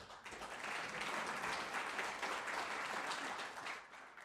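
An indoor audience at a talk about the Yellow Vests movement breaks into applause, a close, dense wash of clapping that swells quickly and holds steady before tapering off at the end.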